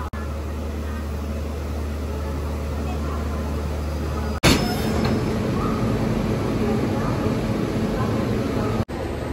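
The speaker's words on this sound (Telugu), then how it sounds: "ఇదిగోండి మన ట్రైన్ అయితే విశాఖపట్నం టు SMBT బెంగళూరు." A Visakhapatnam to Bengaluru SuperFast express train produces a steady low rumble and rolling clatter at close range, broken by a sharp jolt midway and another near the end, with a voice faintly talking.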